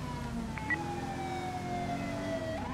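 A wailing siren rises and falls continuously over low engine rumble, sounding moderately close and steady throughout.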